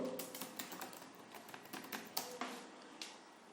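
Quick irregular keystrokes on a computer keyboard as a password is entered, close and crisp clicks in short bursts with a few heavier taps, no talking.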